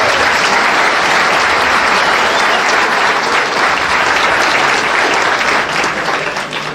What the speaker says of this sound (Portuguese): Então uma salva de palmas para vocês.